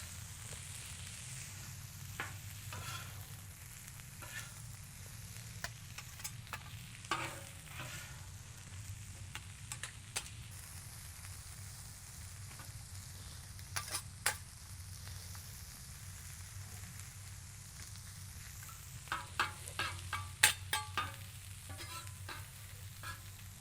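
Mexican street corn cooks in a pan over low heat, giving a faint steady sizzle with scattered light scrapes and taps as the kernels are folded and stirred, close and quiet.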